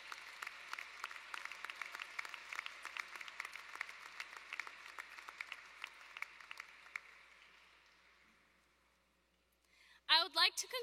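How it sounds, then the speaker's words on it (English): A rousing round of applause from an audience on Capitol Hill, dense steady clapping that gradually thins and fades to near silence before a voice briefly speaks at the end. "join me in giving a rousing round of applause for these people"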